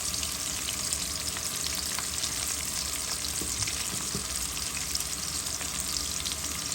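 Beef brain fries in a pan with salt and tomato, producing a dense, continuous sizzle up close with faint stirring taps and no talk.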